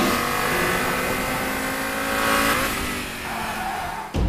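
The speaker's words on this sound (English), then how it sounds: "Many people remember the sound of the five-cylinder in former times. And they now hear it once again in the TTRS." A 2013 Audi TT RS five-cylinder engine drones steadily, its pitch shifting midway and briefly dropping off near the end before picking up again, with no talking.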